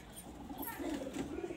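Pigeons of the Andhra Kalshira breed in a Kolkata loft, giving a soft, low cooing that runs steadily through the moment, faint and close, with a little background murmur.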